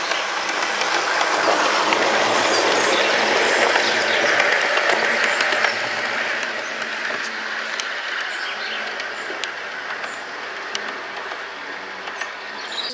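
A small Bachmann Wessex Trains Class 158 model train runs steadily along its track, a continuous whirring rumble with light rhythmic clicking from the rails, close by and fairly loud.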